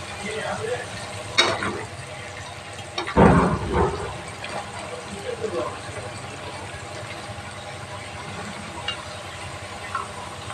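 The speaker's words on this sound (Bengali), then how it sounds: "এখন তার মধ্যে এই লাউটা দিয়ে দিচ্ছি" Chopped bottle gourd tipped into a frying pan with shrimp, a brief clattering splash followed by soft sizzling under a quiet background.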